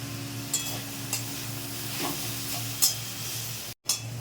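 Drumstick flowers and potatoes fry in a pan with a quiet, steady sizzle, broken by a few soft clinks and scrapes of stirring, then a brief pause before the sizzle resumes.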